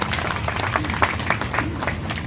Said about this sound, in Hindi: उनके लिए मैं आप सब से गुजारिश करता हूँ कि एक जोरदार तालियां।